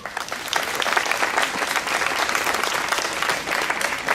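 Audience applause at a speech event at the Pagode de Vincennes, steady, dense clapping that fills the whole stretch at even loudness, with no talk over it.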